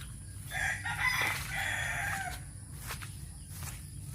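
A rooster gives one drawn-out crow that stands out clearly over a low, steady background rumble. Chickens cluck faintly between fainter sounds afterward.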